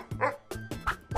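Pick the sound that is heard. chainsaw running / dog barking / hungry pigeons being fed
dog barking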